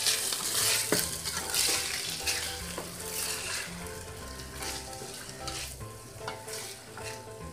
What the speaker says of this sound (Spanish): Y agregamos los nopales. Vamos a poner sal al gusto. Y vamos a integrar perfectamente.